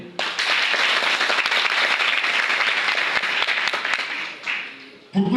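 Audience applause at a formal ceremony in Guinea, a dense, steady crowd clapping that fills the room for about five seconds before thinning out near the end.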